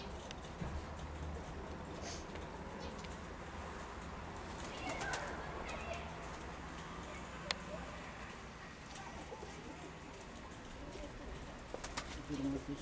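A flock of pigeons circles in flight for a long stretch, with faint soft coos and scattered bird sounds over a quiet, steady outdoor background and an occasional sharp click.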